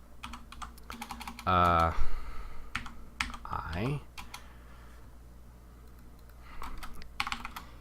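Quick clicky typing on a computer keyboard, short bursts of keystrokes close to the microphone, interleaved with someone speaking.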